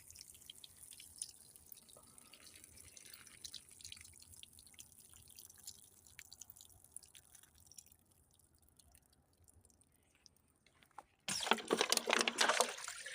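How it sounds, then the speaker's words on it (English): Water is poured to thoroughly soak a garden bed prepared with manure, a steady wet patter and trickle that swells into a louder, close rushing spray for the last couple of seconds. "here goes the watering in process now. I'll wet this bed thoroughly down."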